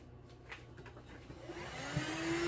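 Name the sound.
vacuum cleaner sucking up loose material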